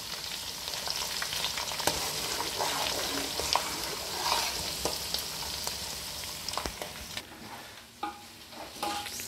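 Whole spices for tomato pickle tempering sizzle and crackle in hot oil in a pan, a steady close frying hiss with scattered sharp pops that thin out toward the end.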